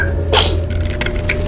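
One short sharp sneeze bursts out over a low steady background hum, brief and close.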